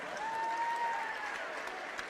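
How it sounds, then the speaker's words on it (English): Applause for the referees at a boys high school basketball game in a gym, a faint, distant patter of clapping with a thin tone running underneath. "To our officials today with a round of applause, Steve Simonson, Mike Wolf, and Kurt Martin."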